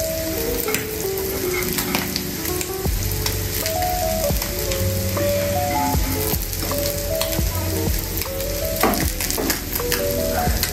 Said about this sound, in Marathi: आता आपली मांदेली छान फ्राय झालेली आहे